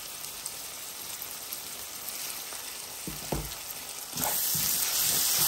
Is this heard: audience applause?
no